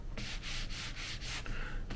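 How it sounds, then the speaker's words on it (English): A 450 sanding block buffs lightly over a leather wallet finished with dried Resolene, making steady back-and-forth rubbing strokes, about six rhythmic passes at close range with no talking. "lightly buff over it with this sanding block."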